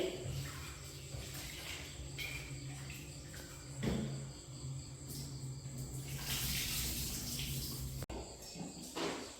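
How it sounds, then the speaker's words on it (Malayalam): Rice is washed in water in a home kitchen, with soft sloshing and splashing, a few louder swishes and a brief clatter near the end, all fairly quiet and close. "അരി കഴുകി എടുത്തു"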